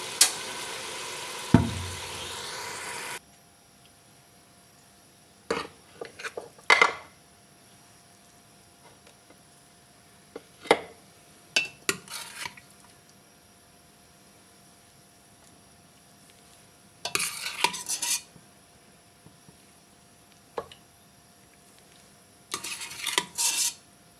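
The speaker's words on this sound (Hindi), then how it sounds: "चूल्हे को बंद करते हैं और डिश में निकालते हैं।" Cooked Peshawari namkeen gosht is served from the pot into a dish, with scattered metallic clinks and scrapes of a spoon against cookware separated by quiet pauses.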